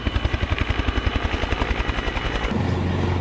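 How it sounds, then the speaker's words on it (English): Westland Wessex HC-2 helicopter flying at the 1966 Farnborough airshow, its rotor thudding in a steady rapid beat for most of the stretch before easing into a smoother engine roar near the end. "An impressive display of helicopters from the Royal Air Force, the Army and the Royal Navy."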